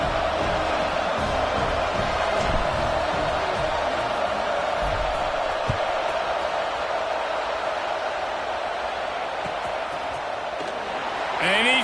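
A college football stadium crowd before a kickoff fills the air as a steady, dense roar of murmuring fans, fairly loud and unbroken, with a commentator talking over it throughout.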